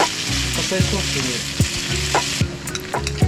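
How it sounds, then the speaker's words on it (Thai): Shrimp and soaked rice noodles for pad thai stir-fried in a hot pan, a steady loud sizzle with a rhythmic scrape of the spatula about every second. "หลังจากนั้นก็จะใส่เส้นที่เราแช่น้ำเรียบร้อยแล้วลงไปผัดค่ะ"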